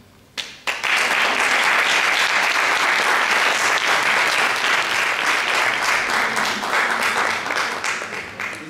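An audience at a charity concert for autism bursts into loud, sustained applause after a short quiet moment, a dense wash of clapping that holds steady and fades slightly toward the end.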